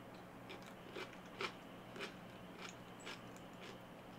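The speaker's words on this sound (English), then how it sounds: "The crunch is really loud in my mouth or in my ears." Crunchy food bitten and chewed close to the mouth, a string of sharp crisp crunches at an uneven rhythm over quiet room tone, from a taste test of an unusual fan-suggested food combo with dill.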